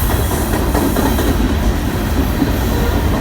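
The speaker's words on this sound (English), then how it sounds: "now we've got an inbound BNSF train blocking me" A BNSF freight train rolls past on the rails in the Sacramento Delta, a loud, steady rumble of wheels and cars with faint clickety-clack, close by and continuous without talk.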